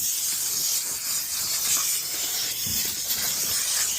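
A steamer hisses steadily, a constant broad airy rush at moderate level with no talk, running evenly through the moment.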